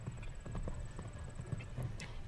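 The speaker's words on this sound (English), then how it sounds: "Tanner Korotkin heads in next with Quinn 33." Horse hooves clip-clop in a steady rhythm as a show jumper enters the arena at a CSI 5* competition, the beats close and clear over a busy crowd and arena background.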